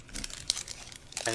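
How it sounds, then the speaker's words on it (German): Crisp crinkling of the paper wrapper from After Eight chocolates, handled close to a microphone in short irregular bursts of rustling with brief pauses between them. "Es ist die Hülle, wo die After Eight drinnen sind."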